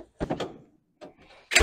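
Cornwell 76-inch toolbox drawer sliding open, a few short metallic rattling slides and thunks close by, with a brief sharper clack at the end.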